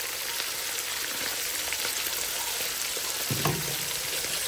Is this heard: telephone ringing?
no